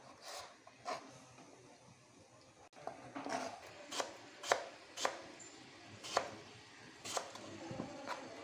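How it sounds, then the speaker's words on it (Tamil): A knife chops vegetables lengthwise on a cutting board for avial, cucumber, ash gourd, carrot and snake gourd among them, giving close, sharp irregular thuds about once a second in a quiet kitchen. "இப்போ இந்த காய் எல்லாமே நம்ம அவியலுக்கு நீள வாக்கில் கட் பண்ணி எடுக்கணும்."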